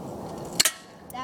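A Crosman Stinger S32P airsoft gun fires two sharp, close snaps in quick succession followed by a fainter third click, with a low background hum before the shots.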